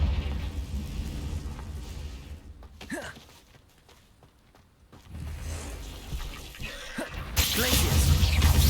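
A Confringo fire-blast spell bursts in Hogwarts Legacy, a loud whooshing explosion that erupts after a quiet lull and roars out densely near the end, with a louder crackling flare at the close.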